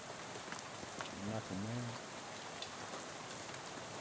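Steady rain in the video game Shadows Over Loathing, a constant even patter throughout, with a brief spoken remark partway through.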